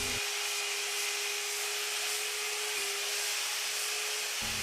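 A power polisher running diamond polishing pads over a concrete kitchen countertop, giving a steady loud whirring hiss with a constant motor hum, briefly dipping once midway, close and without any talking.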